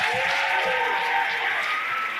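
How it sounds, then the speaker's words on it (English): Brief burst of audience applause for a choir at a school winter concert, steady and fairly loud for about two seconds, with a tonal hum and crowd murmur underneath. "One more round of applause for the choir."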